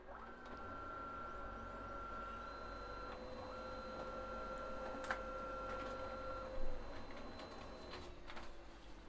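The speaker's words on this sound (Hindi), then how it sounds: "चलिए आपको मैं प्रिंट करके दिखाता हूँ कैसा अभी प्रिंट निकल रहा है" A Brother L2520D laser printer prints a page: a quiet, even mechanical whir with steady tonal hums, soft clicks and feed noises, and no voices.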